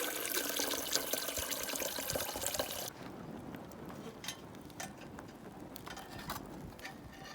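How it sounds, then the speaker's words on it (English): Water runs into a billy can at an outback desert campsite so it can be boiled. A steady, fairly loud stream fills it, then stops abruptly, and scattered drips and small splashes follow. "So now just got to fill the billy, pop that on"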